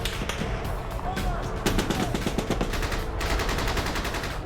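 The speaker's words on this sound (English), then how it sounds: "There was small arms fire" Small arms gunfire on an active battlefield outside a remote village, with rapid bursts of shots cracking in quick succession, loud and close.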